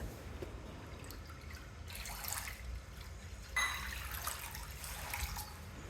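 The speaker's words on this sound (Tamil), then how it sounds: "2 கப் அளவுக்கு தண்ணி சேர்த்துட்டு" Water splashes and trickles steadily into a cooking pan close by, about two cups poured in a rushing stream that swells in bursts over several seconds.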